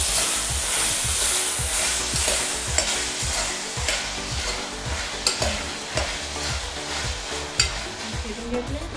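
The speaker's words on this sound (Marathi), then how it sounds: "फिरून घेऊया." Potatoes being stirred in a hot oily pan for vegetable pulao: a steady sizzle under rhythmic spoon scrapes and stirring knocks, close and fairly loud, with no talking.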